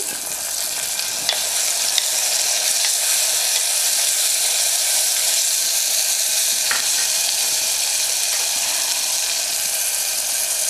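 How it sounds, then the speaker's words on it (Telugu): Tomato pieces drop into hot oil in a clay pot for tamarind rasam, raising a steady, loud sizzle with a few soft clicks as the pot is stirred, with no talking. "కొన్ని టమాటా ముక్కలు వేస్తున్నాండి."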